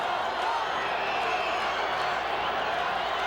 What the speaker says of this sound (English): Crowd chanting, "Let's go Bucks."